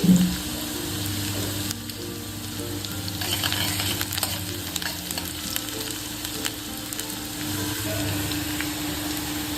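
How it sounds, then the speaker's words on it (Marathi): Chopped onion and finely sliced green chili frying in hot oil with cumin seeds in a pan, a continuous close sizzle and crackle with occasional stirring scrapes throughout, no voices. "आणि कांदा टाकते हे हिरवी मिरची आहे"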